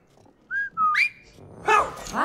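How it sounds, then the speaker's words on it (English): Whistling in the video game It Takes Two: two short rising whistle tones in quick succession, followed by a brighter chirpy burst, clear and close with no talk. "Just whistle"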